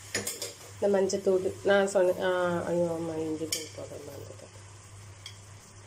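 Mutton gravy stirred in a pan, with soft scraping and a light sizzle running beneath a voice talking close by, then a few scattered clinks.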